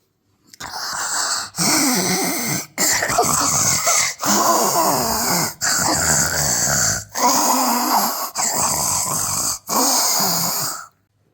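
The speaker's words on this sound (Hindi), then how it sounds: "ज़ोर ज़ोर से किसी के खर्राटे की आवाज़ आ रही होती है।" Loud, rasping snores repeat in a slow rhythm, each long wheezy breath separated by brief silent gaps, close and prominent.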